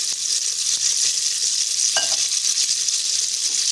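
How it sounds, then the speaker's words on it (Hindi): Onions fry in a big pot for Purani Delhi-style degi achari chicken biryani, making a loud, steady, close hiss of hot oil with a brief clink near the middle. "ये हम पहले प्याज डाल रहे हैं। प्याज को हम फ्राई होने के लिए छोड़ देते हैं।"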